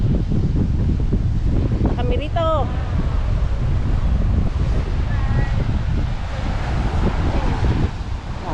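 Strong wind buffets the microphone in a constant rumbling roar, while people talk and shout briefly over it.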